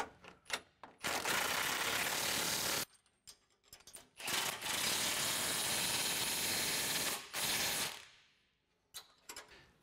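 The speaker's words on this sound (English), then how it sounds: "put the wrench on the back side and the swivel on the inside" A ratchet wrench on a swivel extension tightens bolts during a 360 Tanks install, with long loud bursts of rapid clicking broken by short pauses and a few single clicks, close up and with no voices.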